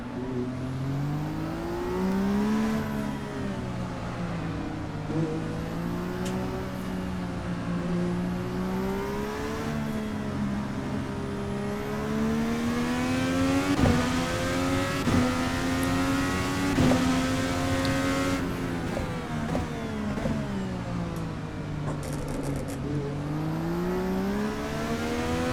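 Race car engine in Assetto Corsa on Nukedrop's Toronto Street Circuit, loud and continuous, revving up and down through gear changes with repeated rising pitch sweeps and brief dips at each shift, no talk over it.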